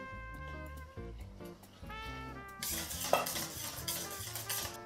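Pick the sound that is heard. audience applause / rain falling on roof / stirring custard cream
stirring custard cream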